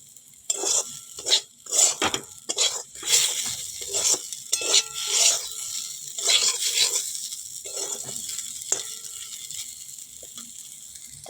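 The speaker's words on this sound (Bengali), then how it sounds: "চলো এবারে নিম পাতাগুলো দিয়ে দিলাম। ভালো করে এবারে ভেজে নেব।" Neem leaves frying and being stirred in a wok, with rapid scraping and clattering strokes over a steady bright sizzle, close and moderately loud, with no one speaking.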